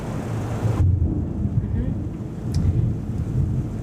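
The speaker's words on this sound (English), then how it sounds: "Every time I hear thunder" Deep, low thunder rumbles on through a stormy wash of wind and rain, with a sudden drop in the hiss early on and one faint sharp crackle further in.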